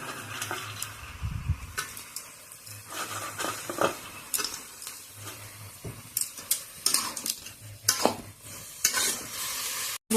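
Chickpeas go into a pan of bottle gourd curry, giving irregular stirring scrapes and utensil clatter over a steady close sizzle from the frying vegetables.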